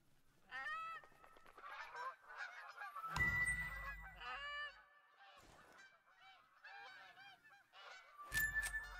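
Repeated honking duck and waterfowl calls from a flock overhead in The Hunter: Call of the Wild, steady throughout, with two louder, rougher bursts of nearby calling breaking in partway through.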